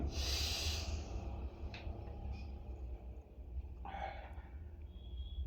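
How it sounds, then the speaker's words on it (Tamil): Deep breaths let out during a progressive muscle relaxation exercise, with a loud, close exhale at the start and softer breathy sounds following, without talk. "ஒன் மோர் டைம் நல்லா மூச்சு விடலுங்க"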